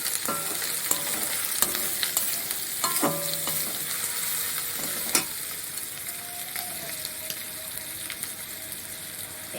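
Three spoonfuls of turmeric powder are stirred into a dish frying in a pan, with scraping spoon strokes and clinks over a steady low sizzle, close and alone without speech.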